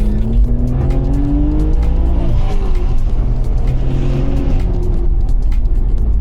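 A 700 bhp Audi RS4 on a hot lap, heard as a loud, continuous engine roar with rising and falling revs and occasional tyre noise through corners, recorded close up.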